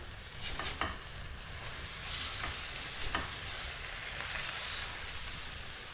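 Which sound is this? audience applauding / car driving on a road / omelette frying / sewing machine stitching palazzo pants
omelette frying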